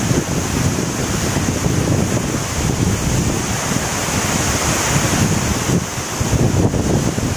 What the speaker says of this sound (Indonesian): Finally gue nyampe juga di air terjunnya.